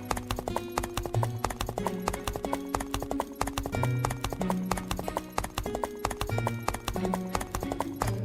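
Horse hooves clip-clop steadily in a brisk rhythmic walk, close and continuous, mixed with bright background music over the whole stretch.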